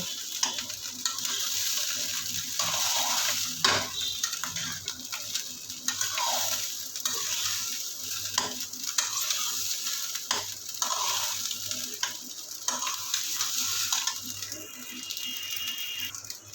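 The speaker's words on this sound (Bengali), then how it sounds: "চালটাকে একদম ঝুরঝুরা করে ভেজে নিতে হবে।" Rice being dry-fried and stirred in a pan, a continuous sizzle broken by frequent scraping and rattling strokes of the spoon throughout, close and fairly loud, with no voices.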